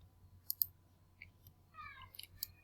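Computer mouse clicks while submitting an online job application, a few sharp, quiet clicks spaced apart, with a faint squeak and light rustle in a quiet room.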